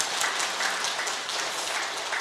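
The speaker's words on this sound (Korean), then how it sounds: "박수 한번 쳐줘요" Church congregation applauding during a Sunday worship service, a steady dense wash of clapping from many hands spread through the sanctuary, continuous and moderately loud with no talk over it.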